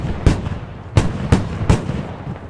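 Mortar launching smoke rounds in the military shooter game Squad: four sharp, heavy thumps spaced roughly half a second apart, each with a brief rumbling tail, loud and close with no talking.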